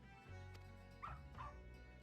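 A puppy in the video game Final Fantasy XIV gives two short, high yips about half a second apart, faint over a low steady hum.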